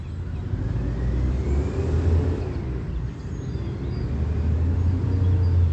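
City of Clearwater trash truck driving through, a loud, close low engine rumble with a heavy drone that swells and eases as it passes, with no voices.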